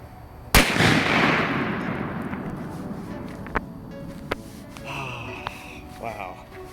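A firecracker goes off with a single loud, sharp blast followed by a long rumbling decay, then a few smaller distant pops, with people reacting and talking afterward.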